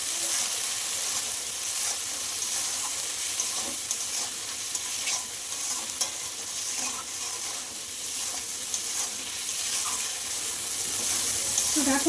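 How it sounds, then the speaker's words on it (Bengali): Rohu fish and papaya curry sautéing in a pan, giving a steady, continuous sizzle with faint stirring scrapes throughout, fairly loud and close, with no talking. "এবার আমি ভালো করে কষিয়ে নেব দেখো"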